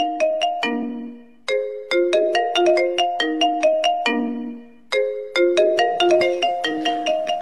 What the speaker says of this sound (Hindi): किसका फोन है? अबे ये तो फूफा का फोन है।